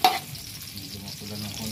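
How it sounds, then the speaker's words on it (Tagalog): Onion and garlic sauté in a pan for an octopus neck dish, giving a short, steady sizzle with a brief clatter at the start. "Siyempre, sibuyas. Bawang. Hindi mo nang gisa lang konti."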